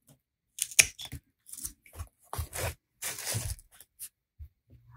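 Scissors or pruners snip through a dahlia stem while taking cuttings, giving a series of close, crisp clicks and crunchy cuts in irregular bursts.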